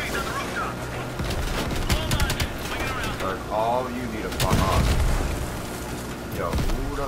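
Dense gunfire from an online Call of Duty: Black Ops Cold War match, with rapid bursts and booming blasts rolling almost without pause while a player talks loudly over the shooting.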